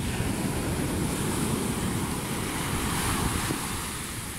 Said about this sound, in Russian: Да, волны очень сильные